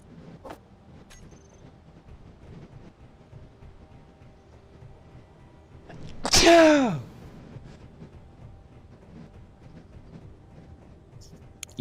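A single loud, sharp sneeze bursts out midway through an otherwise quiet stretch, close to the microphone, with faint background noise before and after.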